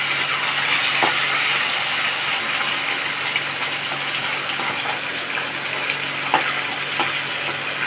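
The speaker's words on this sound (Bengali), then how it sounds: "আর এদিকে মাছের মাথাটা ভাজছি ডালটা করার জন্য" A pangas fish head fries in hot oil for moong dal curry, giving a steady, close, loud sizzle with occasional sharper spits and pops and no talk.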